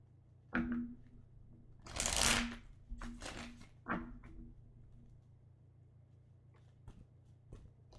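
Deck of tarot cards being shuffled at close range in a few quick riffling bursts, followed by scattered light card taps and rustles, in a quiet room.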